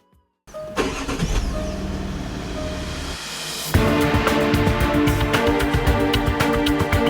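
2016 Toyota Fortuner diesel engine starting after brief silence, cranking then settling into a steady idle, with a louder rise in revs near the end, close and clear.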